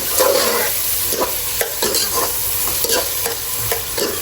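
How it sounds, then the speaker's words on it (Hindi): Beef palao is stirred with spices and black pepper in a pot. A loud, close sizzle carries rhythmic spoon scrapes and clanks about every half second, with no talking. "इसको अच्छी तरीके से अब हमने मिक्स करना है"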